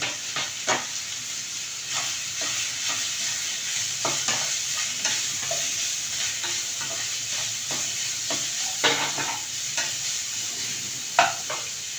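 Grated carrot sizzles and steams in a frying pan while being stirred, a continuous soft hiss punctuated by repeated scraping strokes of the spoon at an uneven rhythm.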